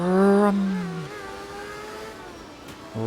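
A rotary-engined rally car in the game art of rally revs hard, a loud buzzing, harmonic-rich snarl that drops in pitch and settles to a steady drone before surging again at the end, with no voices.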